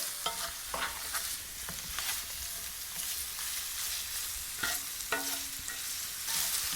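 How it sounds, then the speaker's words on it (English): Mushrooms with their stalks sauté in a hot cast iron skillet, giving a loud, continuous sizzle broken by repeated scrapes and stirs of a utensil against the pan. "while the mushrooms have been sauteing for about 4 minutes"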